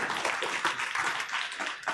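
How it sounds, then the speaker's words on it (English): A round of applause breaks out at a city council meeting, with the steady patter of many hands clapping in a room for a few seconds. "Let's do another round of applause."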